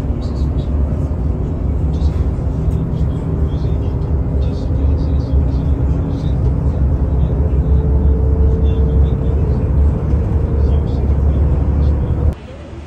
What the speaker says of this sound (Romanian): Mergem și cu autobuzul